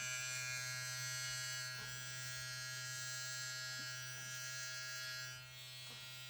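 A VGR V-990 hair trimmer running at 8000 rpm gives a steady, close electric buzz with a strong low hum and bright overtones, continuous for the whole stretch with slight shifts in loudness.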